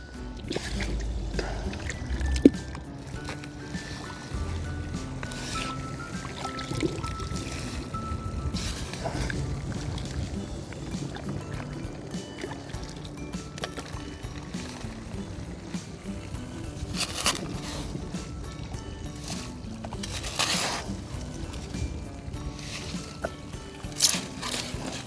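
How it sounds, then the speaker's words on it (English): Rocks and gravel rinsed by hand in a dug pit of water during gold prospecting, with ongoing sloshing, pouring and trickling water plus occasional stone knocks, close and fairly steady without speech. "I got me a big pit of water here that I'm just rinsing rocks and stuff in"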